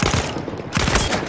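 Dense, continuous gunfire from a Battlefield match rattles throughout, with overlapping bursts and shots at close range and no pause.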